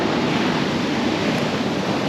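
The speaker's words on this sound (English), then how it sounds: "and that's the Atlantic Ocean." Atlantic Ocean surf rolling onto a North Carolina beach in winter, a steady, loud broadband wash of breaking waves filling the whole stretch with no pauses.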